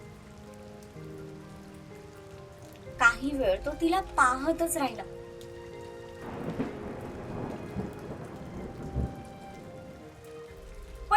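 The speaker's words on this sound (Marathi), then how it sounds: "पावसाचा वेग आता बराच वाढला होता" Heavy rain pours steadily with thunder rolling through it, while a narrator's voice tells a Marathi love story over the downpour and a brief musical passage.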